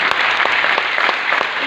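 An audience at a company event claps loudly for the management of a marketing firm, a brief burst of dense, steady applause.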